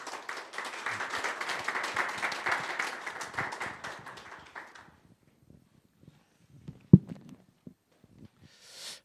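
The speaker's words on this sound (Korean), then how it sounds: "우리 나오실 때 박수로 한번 환영하겠습니다." A church congregation applauds to welcome a speaker, a dense burst of clapping that fades out after about five seconds, followed by near silence with a few soft knocks, shuffles and footsteps.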